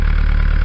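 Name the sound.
sailboat engine sucking in water during winterizing, Bavaria 38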